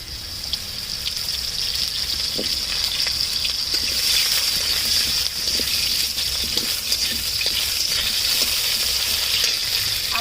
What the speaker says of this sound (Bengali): ফোড়নে দিয়ে দিচ্ছি কাঁচা লঙ্কা আমগুলো দিয়ে দিচ্ছি